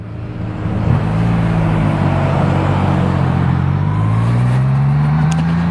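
A Triumph Rocket 3R motorcycle pulls away gently on a road covered in loose chippings, its deep engine note starting near and low, then holding a steady, loud rumble with rising pitch as it rides off.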